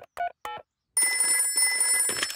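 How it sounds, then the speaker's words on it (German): Cartoon telephone ringing during a call to the doctor: two short bright electronic ring bursts, then a sustained ringing tone with harmonic overtones that carries on to the end. "Armer Pedro, ich werde den Doktor anrufen."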